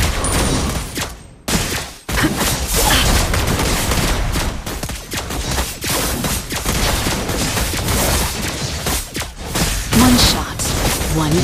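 Lesley firing shots in Mobile Legends, a dense loud barrage of rapid gunfire bursts and impacts within busy battle noise that barely lets up, with no talking.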